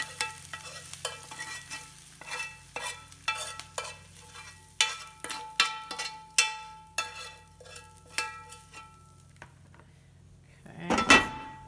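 A spoon or spatula repeatedly scrapes cooked vegetarian stuffed-pepper filling from a pan into a bowl, giving a steady series of close, sharp scraping strokes with clinks at the end.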